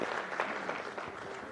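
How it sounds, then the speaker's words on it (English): An audience at a business breakfast meeting gives a brief round of applause for a speaker, a soft, distant wash of clapping that stays even throughout. "A round of applause for Dr."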